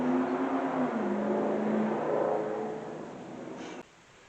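A passing car revs its engine while driving by a house, a loud roaring growl that swells and then fades into the distance before cutting off abruptly.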